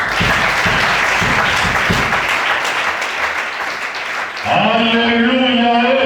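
A church congregation breaks into loud, sustained applause for several seconds before it gives way to a held musical tone from an instrument or keyboard.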